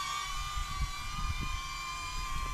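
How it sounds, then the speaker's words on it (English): A DJI Neo drone flying at Roys Hill Reserve, New Zealand, its propellers giving a steady high whine with layered tones over low rumbling gusts, close and continuous. "You'll notice how noisy the Neo is here."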